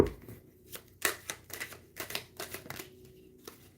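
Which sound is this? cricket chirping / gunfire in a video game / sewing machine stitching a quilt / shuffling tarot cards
shuffling tarot cards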